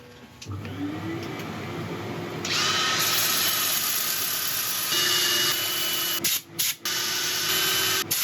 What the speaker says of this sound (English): We'll get this sanded up and see how it looks.